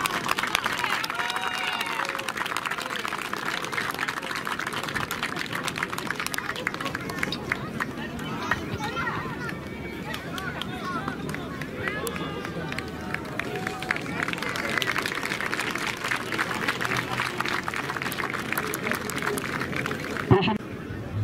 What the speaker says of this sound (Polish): Pięknie, brawa.